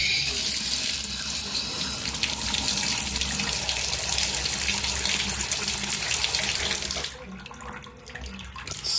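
Water runs steadily from a tap into a sink, a broad continuous rush that keeps on for about seven seconds before dropping to a quieter trickle as it drains slowly through the basin.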